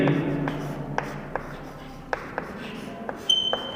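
Chalk or marker tapping and scratching on a board during a geography lecture, a handful of sharp, spaced clicks over quiet room tone with a faint voice in the background.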